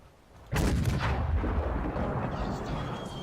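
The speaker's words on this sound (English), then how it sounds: "the sound of the KV-85 shells flying through the air just sounds ridiculous" A heavy KV-85 tank cannon blast in World of Tanks booms suddenly, followed by a long rumbling tail and a faint shell whistle fading out.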